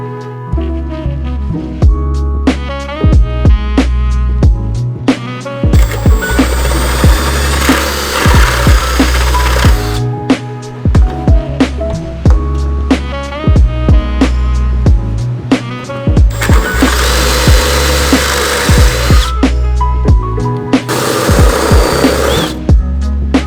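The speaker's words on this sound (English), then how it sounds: "I'll just mark 7 inches over on the bumper and drill it" A power drill whines in repeated bursts as it drills into a car bumper, motor spinning up and down between short pauses, loud and close, with heavier grinding stretches in between.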